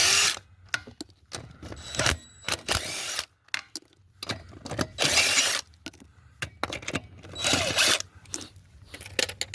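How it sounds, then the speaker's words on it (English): A cordless 13/16 impact wrench spinning lug nuts off a 2002 Chevrolet Silverado wheel during a hub replacement, in repeated short loud whirring bursts with clicks and metallic clatter between them, close by and without talk. "Now I'm just going to use a cordless 13/16 to take them all off."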